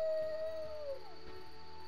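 A dog howls during a cutscene in The Witcher video game, one long sustained wavering cry that slides down and fades, over a low ambient game background.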